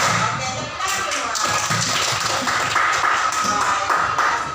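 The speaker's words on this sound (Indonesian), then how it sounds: "Oke, tepuk tangan" A classroom of pupils clapping their hands together, a quick irregular patter of many claps in unison, moderately close, continuing for several seconds with some shuffling and a voice faintly underneath.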